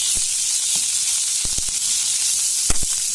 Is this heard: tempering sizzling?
yes